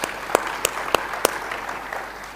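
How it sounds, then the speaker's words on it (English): At the international Yerevan Dialogue forum, a few people clap sharply about four times at an even pace, the sparse claps standing out against a quiet room hum. "I just want everyone of us to applaud Samir for making Yerevan Dialogue last time happen."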